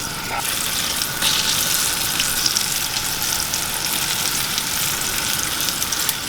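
Chicken frying in hot oil as a loud, dense, steady sizzle with a faint watery crackle, close up and continuous throughout, with no voices.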